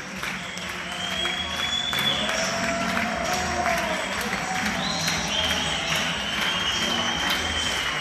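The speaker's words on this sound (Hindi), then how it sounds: "हर घर से लोग बाहर निकल के तालियां बजाकर डॉक्टरों को खराज तहसीन पेश करते हैं" Crowds in homes along a street clap and whistle in a steady, sustained wash of applause for doctors, heard from a distance with a few whistles rising above it and some talk mixed in.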